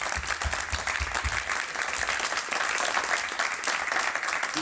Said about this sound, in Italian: Vito Oliva, lo ringraziamo, e allora un forte applauso e che Dio ce la mandi buona.